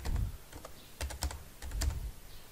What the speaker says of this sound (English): hit enter type your computer password